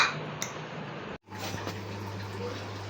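Roti frying in a pan in a home kitchen, a faint steady sizzle broken by light clinks and scrapes of utensils. There is a brief silent gap partway through.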